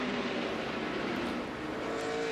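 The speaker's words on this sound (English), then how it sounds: "Great side-by-side action, and while these guys battle here, Kyle Busch pulls away by some 12 car lengths." NASCAR stock cars race side by side around the track in a 2007 Busch Series race, a steady, loud engine roar with a sustained high whine.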